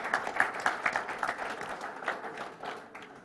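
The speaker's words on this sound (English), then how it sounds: "round of applause for Track" A live audience at a startup pitch competition applauds the startup Track, a steady rattle of many clapping hands at moderate distance, with louder bursts early that gradually thin out.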